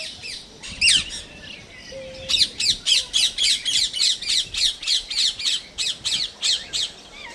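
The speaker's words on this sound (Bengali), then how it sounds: "পাখি, টিয়া পাখি চিড়িয়ানার ভিতরে বন্দি" Parrots held in a zoo aviary at Zallaq Wildlife Park in Bahrain squawk in a fast, repeated series of harsh calls, close and loud, following a few earlier isolated cries.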